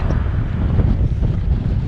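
Wind gusting steadily across open desert near San Diego, a loud, continuous low rumble buffeting the microphone with no talk over it.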